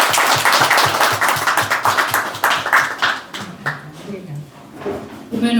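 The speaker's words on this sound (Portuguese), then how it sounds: "eu peço já uma grande salva de palmas à nossa autora, Graça Amiguinho." Audience applause for the author at a book presentation, a Portuguese event about life before and after the 25 April 1974 revolution; dense, loud clapping fills the room, then thins and fades toward the end.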